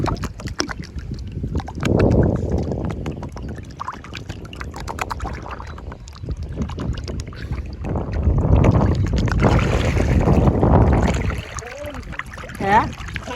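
A boat moving on water in a Bangladeshi village, steady sloshing and splashing with wind noise, swelling in two louder stretches, with occasional voices nearby.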